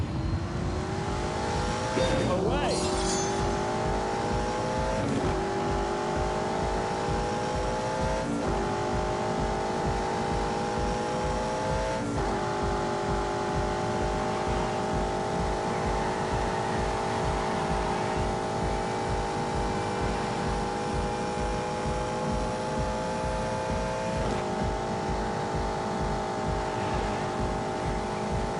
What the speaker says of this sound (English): most of that, to be honest, is because of that V8 engine